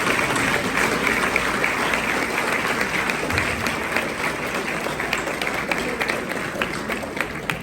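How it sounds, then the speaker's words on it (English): An audience at a Tibetan community banquet applauds guest speakers, performers and award recipients, sustained dense clapping at moderate level with a few sharper claps standing out, continuing steadily without a break. "can you please join me in giving a big hand to our guest speakers, performers, and award recipients?"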